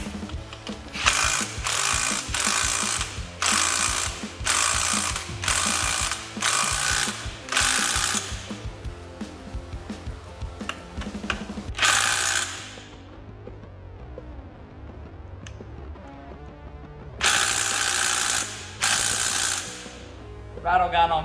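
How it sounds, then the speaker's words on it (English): A pneumatic impact wrench tightens bolts on an L67 supercharged engine during a rebuild with sump, intake manifold and supercharger work. It fires in repeated loud rattling bursts of about a second each, with short gaps between them and a longer pause before the final bursts. "rattle gun on full noise mode."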